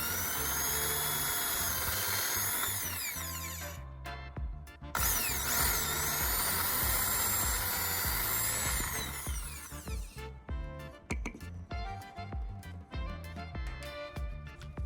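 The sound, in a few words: drill making two holes in a brush handle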